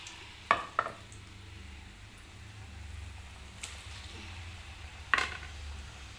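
Murukulu dough, pressed through a mould into hot oil, gives off a faint, steady low sizzle, with a few sharp metallic clinks near the start and one near the end.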